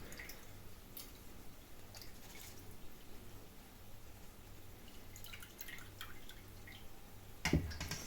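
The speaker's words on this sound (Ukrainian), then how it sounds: "Зараз я друшлячок підніму підніму і рис весь залишиться у ньому." Water drips and trickles softly from rinsed rice draining in a colander in a quiet room, with a faint steady patter and one louder splash near the end.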